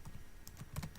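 Light typing on a computer keyboard while entering a description in an Eclipse plugin, a few soft scattered key clicks close by, no talk.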